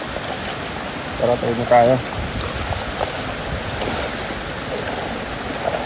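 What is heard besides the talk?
flowing floodwater current during Typhoon Kristine in Bicol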